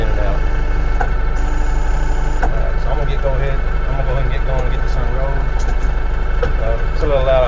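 Tractor engine running loud and steady close by while a hay roll is unrolled, a constant deep rumble with rattles, and someone talking over it.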